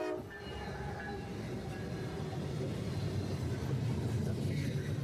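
CSX 548, an intermodal freight train, rumbles past through Tunnel Hill in blowing snow, a steady rolling rail clatter that grows slightly heavier toward the end, heard from a moderate distance.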